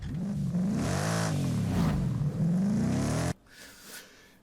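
A 2024 Ford Mustang Dark Horse engine in Forza Horizon 5 cranks and revs, rising and falling in pitch for several seconds, then cuts off abruptly, leaving a quieter idle-like hum.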